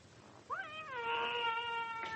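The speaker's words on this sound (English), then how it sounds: "How many cats have you got in here?" A cat lets out one long, drawn-out, wavering meow that rises into a caterwaul in a house full of cats, heard close against a quiet background with no voices.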